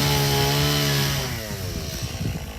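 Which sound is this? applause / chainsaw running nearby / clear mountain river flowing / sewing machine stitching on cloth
chainsaw running nearby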